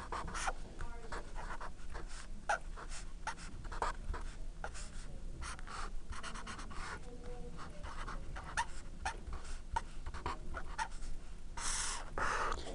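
A pen scratches across paper while a circuit diagram for voltage division is redrawn, with quick, irregular strokes and taps running throughout at close range and fairly low level.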